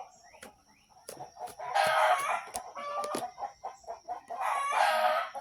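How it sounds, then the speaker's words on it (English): Chickens and a rooster in a farmyard: scattered clucks and short squawks, then two long crowing bursts, close and fairly loud, with no voices. "And there goes my chickens."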